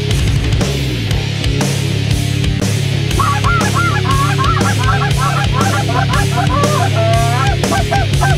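Hunters blow goose calls to imitate a large flock of geese at a hunt on Stillwater National Wildlife Refuge, a loud, dense, continuous chorus of overlapping honks and clucks with no talking.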